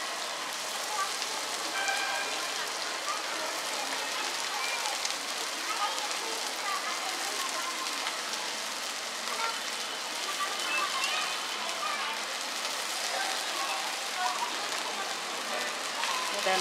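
Flattened rice poha for kanda poha sizzles steadily in a hot pan as it is stirred, a dense crackling hiss that stays loud and even throughout.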